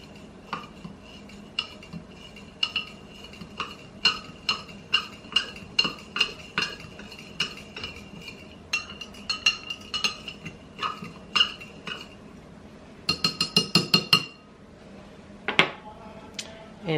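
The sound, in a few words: stirring rice water in a jar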